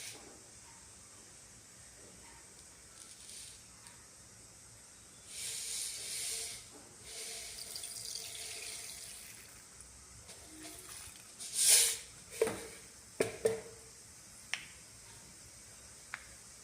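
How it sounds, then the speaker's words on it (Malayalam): Mustard seeds hiss and splutter in hot coconut oil in a pan, a soft sizzle that swells midway and then breaks into several sharp, separate pops near the end. "കടുക് പൊട്ടി വന്നു."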